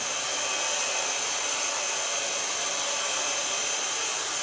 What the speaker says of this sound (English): I just show you that I start with blow drying.